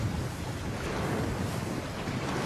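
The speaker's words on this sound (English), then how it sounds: "the sound of that water" A steady wash of water in a virtual theatre production of The Tempest. A broad, constant hiss and rumble runs on without pause, loud and with no voices.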